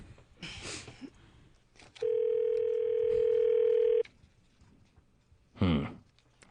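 A phone calls back a number, giving one steady ringback tone that holds for about two seconds between stretches of quiet background noise, with a brief burst of other sound near the end.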